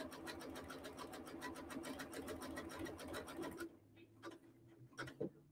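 A sewing machine zigzag-stitching rope into a coaster runs in rapid, even mechanical pulses up close, then stops abruptly, leaving a few scattered handling taps and clicks.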